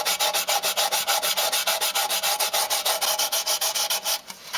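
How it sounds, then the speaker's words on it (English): Sandpaper of 240 grade is rubbed over the wooden frame of a dolls house in quick, steady back-and-forth strokes that sound close, dry and scratchy, with no other sounds. "So I've got a 240 grade sandpaper here, so I'm just going to go around the frame with."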